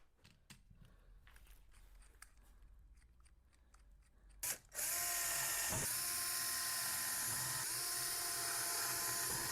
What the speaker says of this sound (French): On va percer.